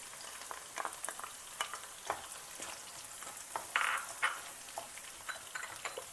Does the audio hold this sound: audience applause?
no